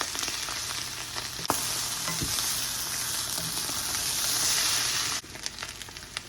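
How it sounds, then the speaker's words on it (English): Rice hits a hot pan for homemade fried rice, setting off a loud, steady sizzle that swells and hisses for several seconds, with a sharp clatter near the start, before dropping away abruptly. "I'm gonna add the rice. Adding the rice."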